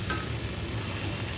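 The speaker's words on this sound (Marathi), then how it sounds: "आता बघा ही धुतलेली स्वच्छ अशी आपण चवळीची भाजी घालूया" Washed cowpea leaves hit a hot iron pan, giving a brief steady sizzle with a short bright crackle at the start.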